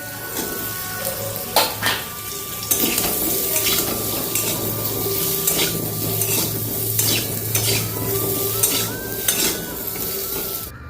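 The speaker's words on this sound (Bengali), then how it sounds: "এই কম তেলেই কিন্তু বেগুন আর আলুগুলোকে ভালো করে ভেজে নেব" Eggplant and potato pieces fry in a small amount of oil, a steady close sizzle with frequent scraping and clinks of a utensil against the pan throughout.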